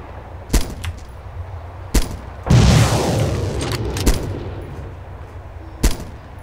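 Rifle shots in the ArmA 2 military game, fired at long range toward targets on rocks: several sharp, isolated cracks spaced seconds apart, with one heavier blast trailing into a rolling echo midway.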